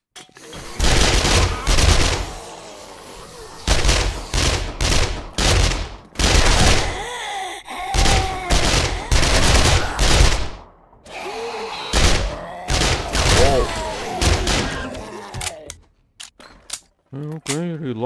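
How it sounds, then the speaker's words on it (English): SMG gunfire in 7 Days to Die, firing regular and armor-piercing rounds inside an infested factory: loud, close bursts of rapid automatic shots in repeated volleys, with brief gaps between them and quieter single shots near the end. "So we have SMG with regular bullets, and then we have armor-piercing bullets on the second SMG."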